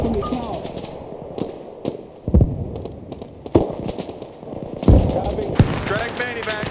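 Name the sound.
gunfire in the video game Arma Reforger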